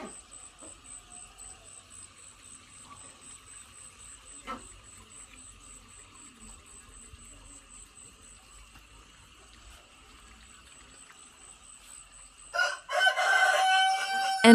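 Chickens in a backyard coop beside a family home in Vietnam make faint, scattered sounds over a steady high-pitched background whine, then a rooster bursts into a loud, close crow near the end.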